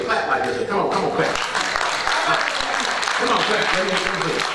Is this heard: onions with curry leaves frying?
no